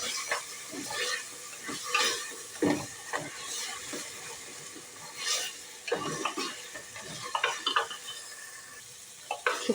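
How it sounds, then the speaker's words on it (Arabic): Canned tomato paste fries in a pot for a quick potato stew, with a steady sizzle broken by the scrape and clatter of a spoon stirring, heard up close with no talking. "نزيدوا عليها شويه تاع طماطم مصبره، نقلوها هي ثاني باش تجينا بنينه"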